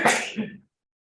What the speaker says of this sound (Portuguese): Quem que está espirrando aí?